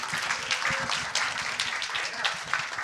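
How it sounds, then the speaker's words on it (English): Steady applause from a church Sunday service congregation, dense and continuous clapping that holds at an even level throughout. "Please give her a big round of applause."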